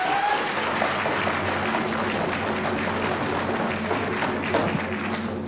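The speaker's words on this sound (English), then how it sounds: "One more round of applause." An audience at a Coast Salish Day community gathering applauds steadily, a dense wash of clapping that holds for several seconds without a break.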